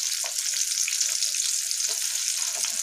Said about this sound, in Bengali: এইভাবে ভাজা হবে।